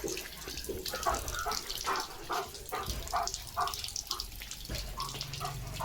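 Tap water runs steadily for Leo the dog to drink, a close, continuous splashing with rhythmic bursts as the stream hits and sloshes, fairly faint overall.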